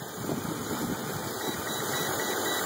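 A warmed-up Mercedes M103 engine idles with a steady, even low rumble and slight vibration, heard close and alone throughout.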